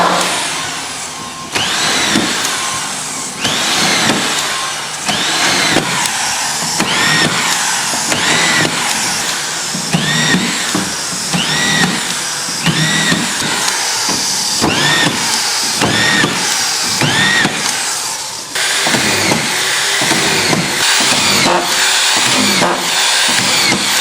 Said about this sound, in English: I'm just going to screw them down, and when I flip this over, the screws won't even show.